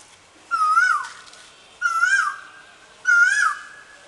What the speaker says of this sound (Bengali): আপনারা কোকিলের আওয়াজ শুনতে পাচ্ছেন,